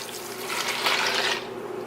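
Broth pours into a pot for curry pasta soup, a short, close liquid splash that swells and then tapers off.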